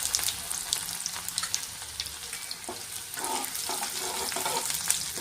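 Mustard seeds, cumin, garlic and ginger pieces crackle in hot oil for a tempering, giving a soft, continuous sizzle dotted with small pops and spits.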